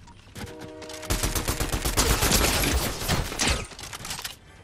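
A burst of rapid gunfire from a turret in Fortnite, dense automatic shots that swell loud after a second and cut off near the end, no voices.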